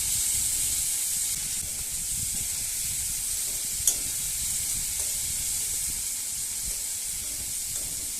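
Prawns fry in mustard oil in a kadai, making a soft, steady hiss that holds evenly throughout. A single faint click comes near the middle, and no one speaks.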